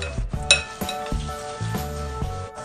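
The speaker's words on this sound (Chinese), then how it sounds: "把熬好的葱油淋上来，搅拌均匀" Noodles are tossed with scallion oil in a large bowl, giving a few soft clinks and knocks of utensils against the bowl over a low, wet, sizzly mixing sound, close and without talk.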